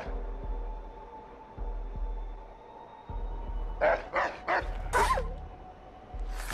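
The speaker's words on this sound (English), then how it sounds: "So I have to kill these dogs, right?" Dogs bark in the video game Assassin's Creed 3: four quick, fairly loud barks in a tight cluster, with a steady low hum in the background.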